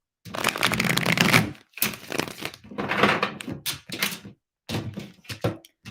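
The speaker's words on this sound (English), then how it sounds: "let me get a good shuffle for my Scorps" Tarot cards being shuffled in several bursts of dense crisp riffling, close and fairly loud, with short pauses between rounds and no talking.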